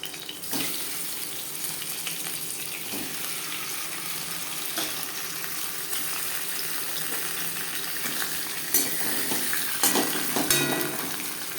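Fresh fish fries in a modest amount of oil for a fish curry, giving a steady, close, hissing sizzle with scattered crackles and spits throughout, and no one speaking.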